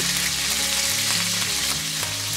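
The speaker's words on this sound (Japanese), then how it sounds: "それでは適度に丸めて焼いていきましょう" Burger patties sizzle steadily in a hot frying pan, a loud continuous crackling hiss over a faint low musical hum.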